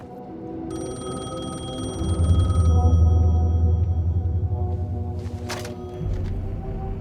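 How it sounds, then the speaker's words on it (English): Telephone in an Alan Wake 2 cutscene rings with a bright, trilling bell burst lasting a couple of seconds over a low, droning ambient score, then fades into dark rumbling tones. "phone was ringing."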